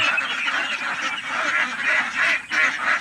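Ducks honk and quack repeatedly in a steady, dense chorus, close and fairly loud, with no talking over them.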